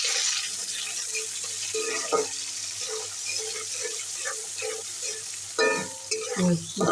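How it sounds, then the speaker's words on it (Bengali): Chopped onions fry in oil for a mixed vegetable bhaji, sizzling continuously close by while a spatula stirs with light rhythmic scrapes, ending in a louder burst of stirring and clatter. "তেলে দিয়ে দিলাম পেঁয়াজ কুচি"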